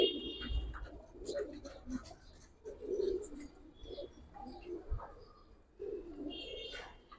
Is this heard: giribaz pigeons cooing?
yes